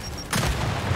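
A frag grenade detonates in the video game Gears 5, a single sudden blast after a short pause, followed by a low rumbling tail.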